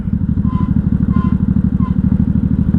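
A 1983 Honda Shadow VT750C V-twin motorcycle engine runs loud and close in a steady, rapid, lumpy pulsing throb with slight popping, heard alone.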